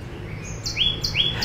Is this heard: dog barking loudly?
no